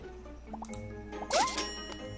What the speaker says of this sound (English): I'll pour them all at once to see how mesmerizing they look.